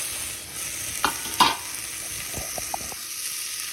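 Tomato and potato frying in a pan for a mixed curry, stirred with a few distinct scraping clacks over a steady soft sizzle, close up with no talking.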